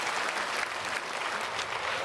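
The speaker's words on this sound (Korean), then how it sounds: "우리 크게 박수로 환영하겠습니다" A church congregation at Sunday worship applauds to welcome new members, a dense, steady wash of many hands clapping together throughout, loud and even with no pauses.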